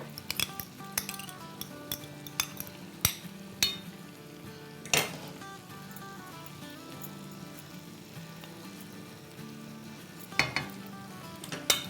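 Half a cup of yogurt going into hot frying vegetables for a vegetable biryani: a soft, steady sizzle runs underneath, broken by sharp metallic clinks and scrapes of a spoon against the pan at irregular intervals.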